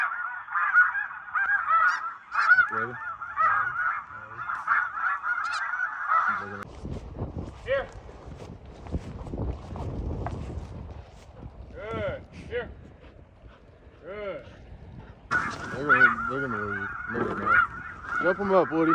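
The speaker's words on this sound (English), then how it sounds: "the geese were flying on this day" Flying geese honking loudly and repeatedly during a goose hunt, in dense overlapping calls at the start and end with a noisier, rustling stretch between; voices seem mixed in.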